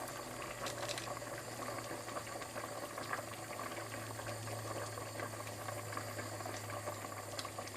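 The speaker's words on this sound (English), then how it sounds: "You can hear it bubbling away," Vegetable soup bubbling in a pot, a soft continuous simmer of small popping bubbles close by under a low hum, steady and quiet throughout.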